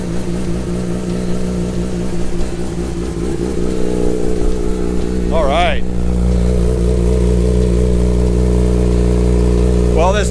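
A Yamaha R6 sport motorcycle starting on a fresh battery and settling into a steady idle, its engine hum continuous and close throughout, with a brief rev partway through while someone speaks over it.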